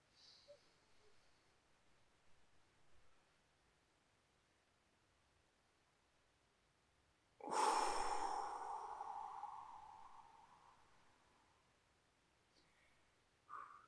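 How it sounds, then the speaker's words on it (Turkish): Slow breathing exercise: one long, soft breath rises suddenly, swells and fades over several seconds, close and alone in a quiet room, with faint breath noises around it. "Hadi bir 3 saniye nefes alalım."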